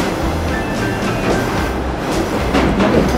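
A JR Tadami Line train rolls along the rails, wheels clicking in a steady clickety-clack over a low rumble, heard from inside the carriage without talk.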